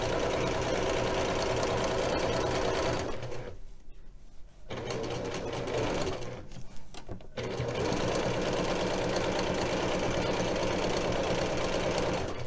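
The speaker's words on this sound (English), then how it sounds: "Put it underneath your sewing machine and sew a 1/4 inch seam." A sewing machine stitching a quarter-inch quilting seam runs in a fast, steady whir, stops briefly twice, then runs on close and continuous.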